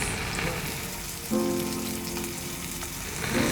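Garlic paste and chicken fry in a pan with a steady crackling sizzle, joined midway by a short tonal scrape or ring of a utensil, then the frying swells again at the end.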